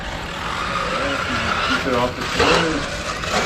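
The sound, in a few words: 1/8 scale 2wd RC buggy driving outdoors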